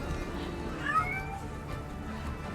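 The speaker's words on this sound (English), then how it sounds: "why is that cat sound? It's the same sound when I'm searching for cats." A cat meows once in the 1666: Amsterdam video game, a short rising-and-falling call that stands alone over a quiet, steady background hum.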